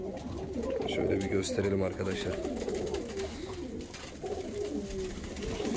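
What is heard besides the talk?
Volski pigeons cooing in a coop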